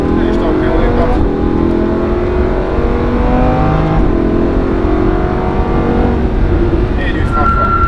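A Lamborghini Huracan accelerates on the Le Mans Maison Blanche race circuit, its engine droning loud and close with rising, shifting pitch as it pulls through the gears, an instructor talking over the noise.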